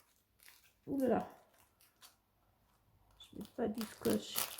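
A box cutter slices open paper packaging in two close bursts of scraping and tearing, one short and a longer sequence at the end, with quiet handling in between.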